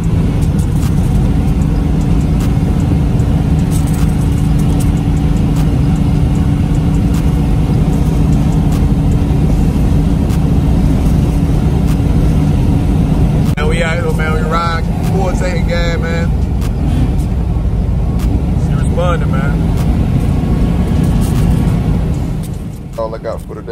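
A 1990 Chevrolet 454 SS truck cruises at about 60 mph, its steady low engine and road drone filling the cabin throughout, with someone talking briefly partway through.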